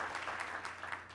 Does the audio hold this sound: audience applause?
yes